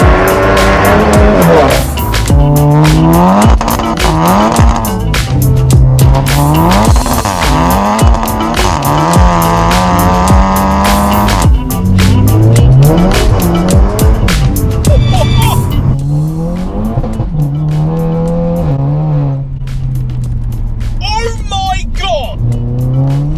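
Seat Leon Cupra hot hatch with 420 bhp, driven hard on a twisty B road: loud, sustained engine roar rising and falling through gear changes and steady acceleration, with no talk over it.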